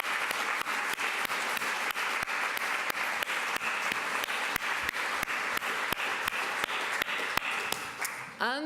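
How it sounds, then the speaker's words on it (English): Audience at a seminar applauding the event organizers, with dense sustained clapping and a few sharp individual claps standing out. It holds steady for most of the span, then tapers and ends on a brief murmur. "I think that all of them deserve a big round of applause"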